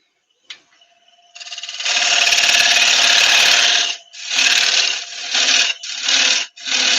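Ash wood spun on a lathe with a tool cutting a platter, a loud near rasping scrape that starts with a tap, holds steady and then breaks into shorter passes.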